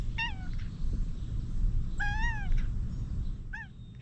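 A hungry cat meows three times in a screened pavilion by a big old oak, each call a clear rising-falling mew with pauses between, close and loud over a steady outdoor background.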